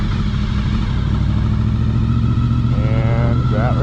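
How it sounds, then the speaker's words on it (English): A motorcycle engine rumbles loudly and close, steady at first, then pulls away as throttle is added and the clutch is let out, with a voice briefly heard over it near the end. "that right there is how you start moving a motorcycle"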